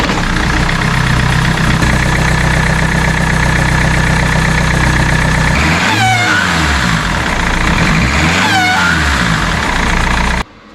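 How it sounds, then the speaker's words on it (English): A BMW 3 Series engine runs steadily at a rough idle, then revs up twice in quick rising-and-falling sweeps near the end before cutting off abruptly. The car is fitted with a silicone tape repair over a boost leak. "I'm gonna give the car a quick little test start."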